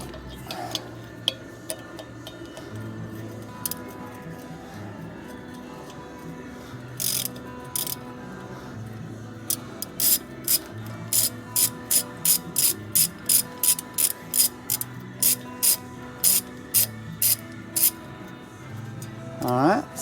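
A ratchet works a small T30 Torx bolt loose on the front brake of a Chevy Colorado ZR2, a run of quick, evenly spaced clicks close by over a low background hum, with a voice speaking at times.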